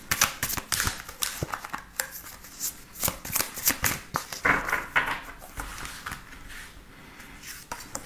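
Tarot cards are shuffled for a reading, producing continuous close riffling and slapping with rapid irregular clicks and no speech.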